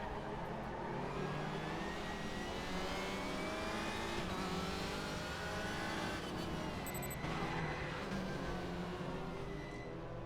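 A race car engine drones in a racing video game, a sustained close roar with rising and falling revs and gear changes throughout.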